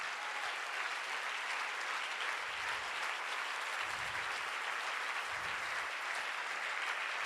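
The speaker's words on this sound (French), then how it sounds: "Est-ce que tu peux acclamer?" A church congregation applauding at an evening service, steady sustained clapping from a large crowd throughout.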